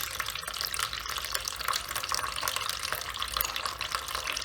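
Water drains steadily out of a washing machine into a container, a continuous close splashing and gurgling stream with no pauses and no talk.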